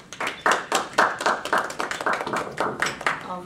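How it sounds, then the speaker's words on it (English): An audience at a small talk applauds to welcome a speaker, a moderate patter of hand claps with uneven rhythm, fairly close and sustained. "ask you to welcome her, perhaps with applause"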